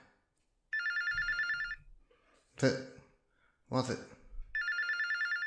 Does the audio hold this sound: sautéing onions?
no